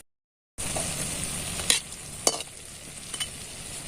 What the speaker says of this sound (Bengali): উল্টে পাল্টে এটাকে আমি ভেজে নেব